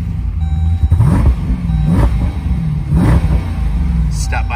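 A 2018 Dodge Durango SRT with the 392 Hemi V8 revs repeatedly, giving about three throttle blips that swell and fall over a steady idle rumble, with faint beeping in the background.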